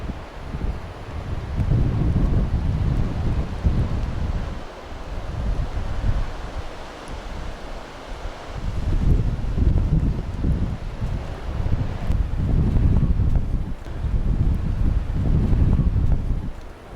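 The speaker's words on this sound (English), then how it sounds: "we're getting blasted with the wind" A strong wind blasts across a mountain path at Creag Meagaidh National Nature Reserve. It roars into the microphone in heavy gusts that rise and ease repeatedly over a steady rushing bed.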